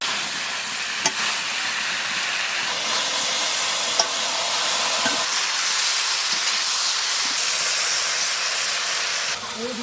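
Okra and potato, fried earlier, frying in a pan for a mustard and chili paste curry with small fish, giving a steady close hiss and sizzle throughout with a few faint clinks and no talk.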